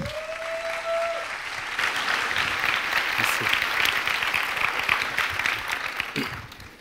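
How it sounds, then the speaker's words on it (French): Audience applause at a product design talk, a sustained burst of many hands clapping that swells quickly and holds steady before tapering off near the end. "Tous vos applaudissements pour Jérémy Barré."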